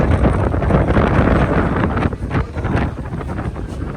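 Strong wind gusts at an international kite festival, buffeting the microphone as a loud, rough roar that surges and dips over a few seconds, with no speech.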